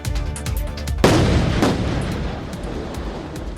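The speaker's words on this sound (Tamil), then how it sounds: "சாலையில் விழுந்த ராட்சத பாறைகளை நெடுஞ்சாலைத்துறையினர் வெடிவைத்து தகர்த்து போக்குவரத்தை சீர் செய்தனர்" Highway workers set off explosives to shatter giant boulders that fell onto a road after heavy rain: one loud, close blast lands about a second in, then a long rumbling decay of falling debris.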